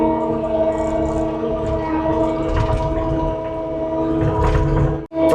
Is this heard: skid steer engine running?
yes